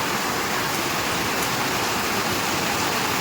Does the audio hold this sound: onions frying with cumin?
no